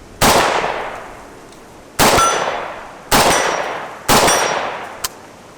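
Four sharp, loud gunshots from a gun fitted with a muzzle brake crack out at irregular intervals of roughly one second, each with a short ringing decay, and a faint metallic ping follows the last one.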